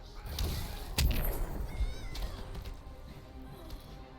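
A cat meows in the fighting game Injustice 2, short mewing cries over a busy game soundtrack with sharp hits, moderately loud and repeated.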